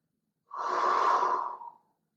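A single slow inhalation through the nose during a stretching exercise for low back pain, close and steady, swelling for just over a second before fading, with no talking.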